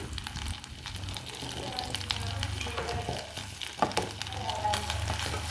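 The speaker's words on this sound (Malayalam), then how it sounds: "മിൽക്ക് മെയ്ഡ് ഒഴിച്ച് കൊടുക്കാം." Condensed milk poured into a hot pan, giving a continuous frying sizzle with occasional stirring clicks, fairly quiet and steady.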